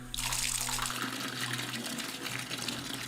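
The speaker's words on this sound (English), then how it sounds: "She turns on the faucet." Water gushes steadily from a faucet into an old-fashioned washtub in a hotel bathroom, a continuous splashing rush that starts abruptly and runs on alone.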